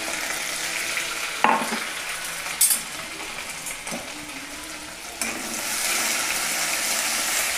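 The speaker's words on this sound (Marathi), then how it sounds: "आता त्यामध्ये हे अद्रक, लसूण आणि काळी मिरी हे कुटलेलं टाकणार आहे" Crushed ginger, garlic and black pepper hit hot tempering oil with bloomed cumin for a khichdi, giving a steady bright sizzle broken by a few sharp spoon clinks and stirring scrapes, with no voices.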